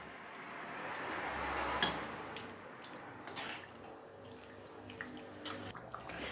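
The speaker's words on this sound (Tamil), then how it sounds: "கொதி வர ஆரம்பிச்சிருச்சு." Kadaknath chicken gravy in a covered pot reaches the boil, giving soft bubbling and hissing with small irregular ticks and pops. It is faint and close, with no talking.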